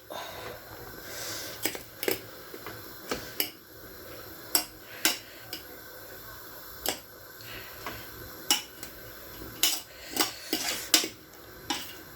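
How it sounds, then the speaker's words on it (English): A spoon stirs steamed wasawasa, a Northern Ghanaian millet-flour delicacy, in a pot, producing irregular sharp scrapes and clinks against the metal, spaced a second or so apart and fairly close. "So we are giving it a stir."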